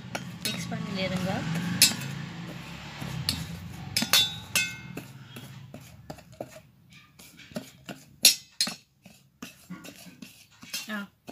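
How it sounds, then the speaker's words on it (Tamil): A spoon scrapes and clinks against a bowl while a homemade face scrub mixture is stirred, irregular close taps and scrapes, with a voice speaking over the first part. "கொஞ்சம் கொஞ்சமாக ஊற்றி ஊற்றி மிக்ஸ் பண்ணிடுங்க"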